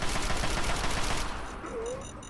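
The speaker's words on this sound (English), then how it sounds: "Oh no, I'm seeing gunshots." Rapid gunfire in the video game Fallout 3, a dense, loud burst of overlapping shots that fades slightly at the end, heard alone without talk.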